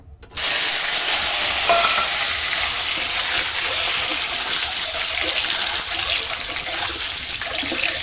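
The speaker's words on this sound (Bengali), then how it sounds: "এখন সিদ্ধ করা ডিমটা ভেজে নেব" A loud, continuous sizzle of a boiled egg frying in a pan starts right away and holds steady, with a few faint clinks of stirring underneath.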